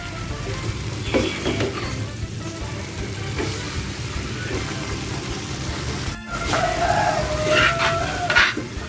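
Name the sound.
stirring pumpkin dish frying in a pan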